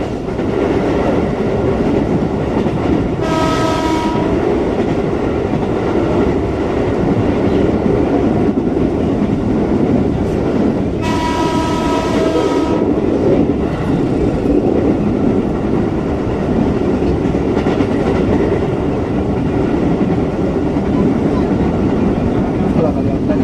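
A JR205-series KRL commuter train runs steadily on the rails with a continuous loud rolling rumble, and two short bursts of horn-like tonal sound rise over it partway through. Voices talk faintly underneath.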